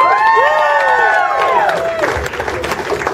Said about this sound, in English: How about a nice big round of applause